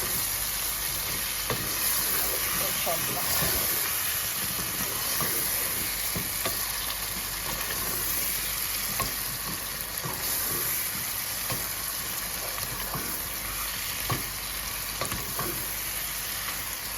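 Fish and potatoes fry in a pan with a loud, steady, dense sizzle and crackle, punctuated by occasional stirring scrapes, close-up and continuous with no talk.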